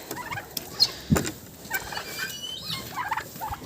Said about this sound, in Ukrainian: Виганяю індиків знову і цесарки, напевно, підуть.